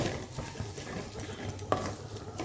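Paneer bhujia mixture stirred in a pan, soft scraping and shuffling strokes over a low sizzle, with one sharper knock of the utensil, close and quiet.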